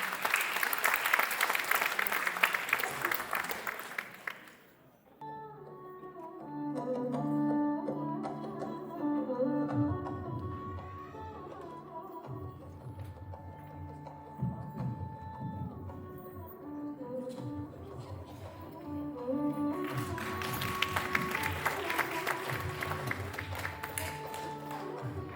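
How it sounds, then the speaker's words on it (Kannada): Audience applause at a Yugadi spring festival stage show, welcoming children onto the stage: dense clapping at the start, a quieter stretch with scattered claps and stage sounds, then a loud wave of applause again near the end. "ಚಪ್ಪಾಳೆಯೊಂದಿಗೆ ಮಕ್ಕಳನ್ನು ಸ್ವಾಗತಿಸೋಣ."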